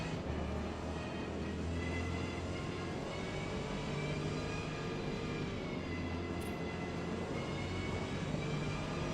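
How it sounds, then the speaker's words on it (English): Steady, loud in-cabin drone of a race car in Gran Turismo 7, dominated by metallic whine from spiral-cut gearbox gears, with sustained harmonic tones holding throughout and no talk. "the overwhelming noise in the car is actually the gearbox, not so much the engine or tire or wind noise"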